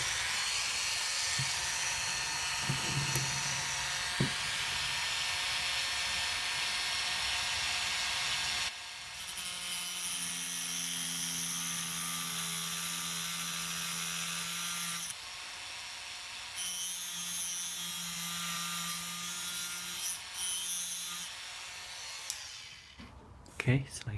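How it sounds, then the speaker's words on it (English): A Dremel rotary tool cuts a Tamiya Mini 4WD chassis part, giving off a high, thin whine that comes in several sustained bursts separated by short pauses, with a few clicks and handling noises between cuts. "So I'm gonna using Dremel to follow the line"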